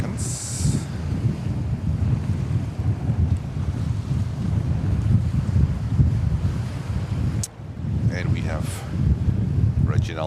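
Strong, gusty wind at JFK Airport in New York buffets the microphone with a loud, continuous low roar through the whole stretch. Brief fainter hissing sounds come through near the end.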